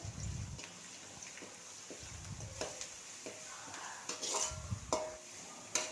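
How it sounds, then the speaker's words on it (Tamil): Onions with ginger-garlic paste are sautéed in a pan for chana gravy: repeated soft clanks and scrapes of a spatula against the pan over a faint, low sizzle, quiet and close, with no voices. "சேர்த்து நல்லா பச்சை வாசனை போகிற அளவுக்கு நல்லா வதக்கி விடணும்"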